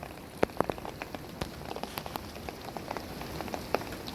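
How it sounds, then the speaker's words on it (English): Light rain with some hail tapping and pattering on surfaces outdoors at a hillside building site, a faint steady patter marked by scattered sharper ticks of individual drops. "Getting a little rain and hail."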